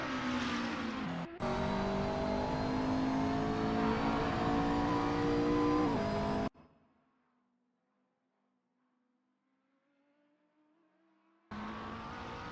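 GT3 race cars lapping Oulton Park in a racing video game, a loud sustained engine drone with shifting pitch that cuts out abruptly, leaving near silence with a faint distant engine before the roar returns.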